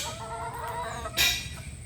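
A red bulik rooster with a straight comb gives soft clucks, then one short louder call near the end, fairly quiet and close with no talking.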